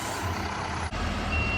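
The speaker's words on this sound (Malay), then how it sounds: "Lori kena reverse." An Alam Flora rubbish lorry reverses, its backup alarm beeping steadily over a low diesel engine rumble, close and loud.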